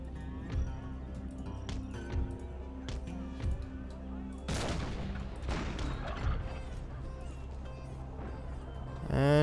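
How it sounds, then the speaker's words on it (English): Musket volleys in the battle game Empire: Total War sound as scattered sharp cracks, then a dense crackling burst of massed fire midway, with a few further reports after it and voices at times. "And shots are away."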